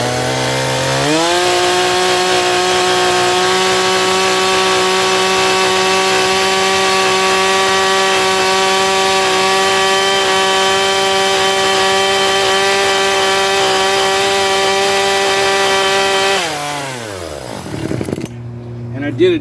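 A Husqvarna chainsaw with a bar-oiling problem revs up and holds a loud, steady high whine close by for about fifteen seconds, then winds down to idle and stops.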